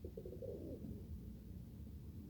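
A young pigeon cooing softly nearby in a short rolling series of low coos, with no one talking over it.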